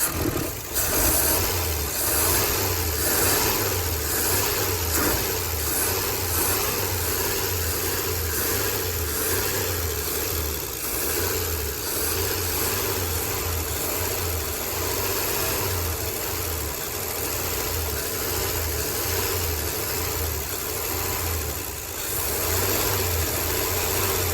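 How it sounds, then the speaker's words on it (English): An old car's engine runs out of gear and is revved to break something loose, giving a continuous, close, rumbling drone with a steady low throb for more than twenty seconds and no voices over it. "We'll see if just by revving it, I can break that free."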